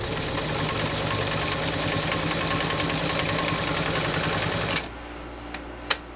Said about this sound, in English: This again is a Montgomery Ward Model UHTJ1273, and we'll see how this machine does on a single layer of leather.